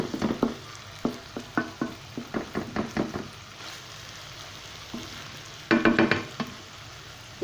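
Vegetables such as potatoes frying in hot oil in a Sindhi home kitchen: a steady sizzle under repeated sharp knocks and scrapes of a spoon stirring in the pan, close, with a burst of rapid clatter near the end.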